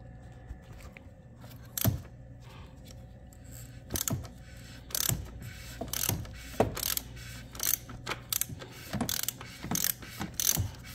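Ratchet wrench with a millimeter adapter loosening the oil filter on an Audi Q7, a series of close, sharp clicking bursts repeating at irregular intervals over faint background noise, with no talking.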